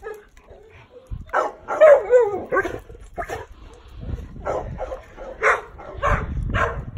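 Several dogs bark in kennels at an animal shelter, a string of sharp, loud barks and yelps close by with short pauses between bursts, no speech over them.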